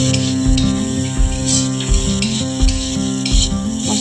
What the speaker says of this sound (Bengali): মশলাটাকে ভালো করে কষিয়ে